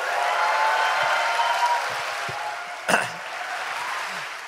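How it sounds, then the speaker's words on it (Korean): A studio audience at a radio show's 300th-episode recording applauds steadily to welcome a lawyer guest. The applause is a loud, continuous wash of many hands, with one sharper thump partway through before it settles again. "박수로 맞아주십시오."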